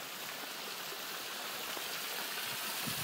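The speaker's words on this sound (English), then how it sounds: "has enough water going into it" Water pours steadily into a tank on a tropical fish farm in snowy weather, a dense, continuous rushing and splashing that stays even and fairly close throughout with no voices.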